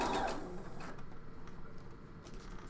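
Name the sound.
sewing machine stitching a garment armhole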